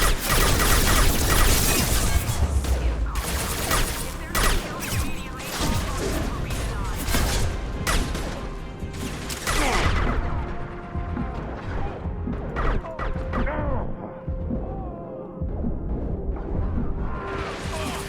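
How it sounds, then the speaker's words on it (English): Starship weapons fire in the sci-fi video game Mass Effect 2, a dense barrage of booming blasts, crashes and whooshes filling the whole stretch at loud, steady intensity with some layered game effects. "Ship fire from the Krogan."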